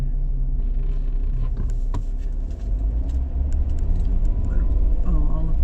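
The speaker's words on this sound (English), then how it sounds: "Oh, all of this traffic." City street traffic in Richmond, Virginia: a steady low rumble of passing cars and engines, with faint creaks and clinks on top, continuous throughout.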